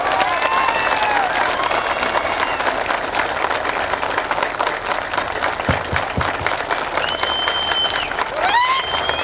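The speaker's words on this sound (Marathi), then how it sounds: "तुम्ही टाळ्या किती जोरात वाजवता हे बघायचं मला" A large outdoor crowd at a political rally in Maharashtra claps loudly and steadily, a dense unbroken wash of applause with a few whistles cutting through near the end.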